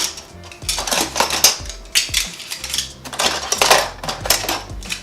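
Metal spoons clatter and clink as they are handled and sorted while kitchen cabinets are organized, in bursts of bright jingling close by.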